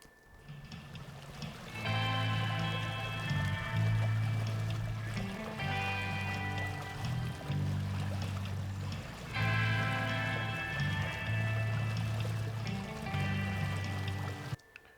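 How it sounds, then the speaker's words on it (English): Trickling, flowing water used as a sound-design element for a 360 video scene, a fairly quiet steady babble that comes in after a short pause and runs continuously with gentle surges, alone with no talk. "just to give us a sense of a little bit of water flowing"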